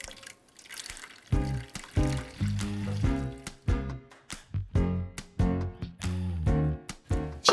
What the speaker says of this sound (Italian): versiamo dell'acqua bollente